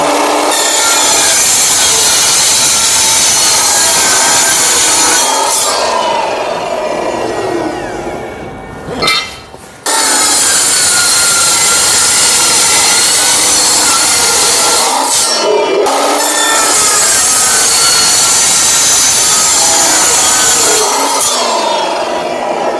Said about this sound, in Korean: 스틸 톱 날로 파이프를 자르는 거예요